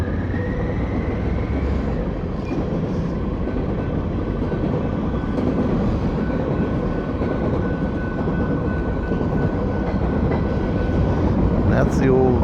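Pan Am Railways train rolling past near an old station, a loud continuous low rumble of engines and rail cars with a faint horn tone early and clanking toward the end.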